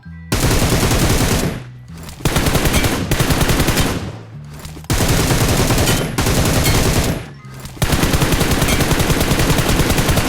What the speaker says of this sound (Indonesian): baru dia nembak lagi